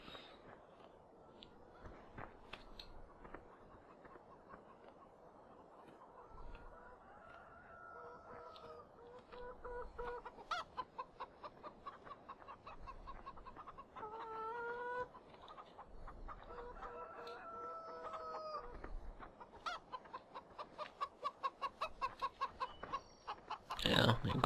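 Chickens cluck and murmur continuously on a Farming Simulator 2015 farm, several birds close by with a rooster-like call mixed in, building toward a rapid clucking burst at the end.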